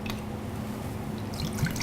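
Apple cider vinegar poured into water for a pickling brine, a steady liquid trickle and drip running the whole time at moderate volume, with no one speaking.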